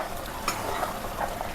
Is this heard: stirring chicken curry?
yes